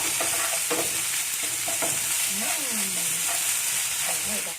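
Spiced shredded chicken with galangal is stirred in a hot pan, giving repeated scraping strokes of the spatula over a constant close frying sizzle.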